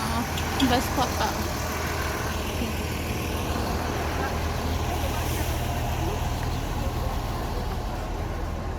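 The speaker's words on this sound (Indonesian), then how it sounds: "Ini bus kota." A city bus idles on a street near the Prophet's Mosque in Medina, a low steady engine rumble that stays even throughout, with faint street noise and brief birdlike chirps early on.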